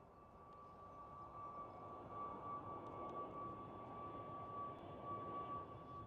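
Airport ramp at Amsterdam Schiphol with an SAS airliner: a steady, broad jet engine roar and whine holds throughout at moderate distance, with a faint high tone running above it and no talking.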